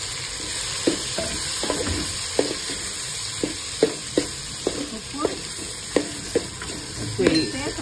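Tomatoes and onions fry in oil for egg biryani, a constant bright sizzle punctuated by regular sharp clinks of a ladle stirring against the pot, close and busy.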